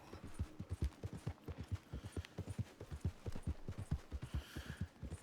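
Hooves of a horse in a video game clip-clopping in a brisk, even rhythm, close and clear, with no talk over the steady trotting beat.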